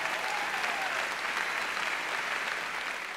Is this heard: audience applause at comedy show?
yes